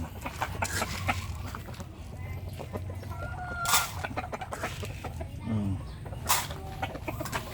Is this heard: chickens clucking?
yes